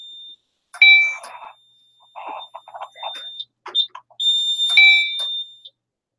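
A fire alarm system activates with loud electronic beeps and tonal chirps, sounding in irregular bursts with brief gaps between them, close and clear.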